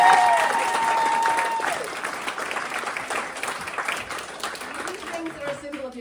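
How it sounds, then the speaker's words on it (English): Wedding guests applaud a member of the wedding party during a ceremony, a steady burst of clapping from a crowd that gradually thins and fades, with some murmuring voices underneath. "Let's give her a round of applause."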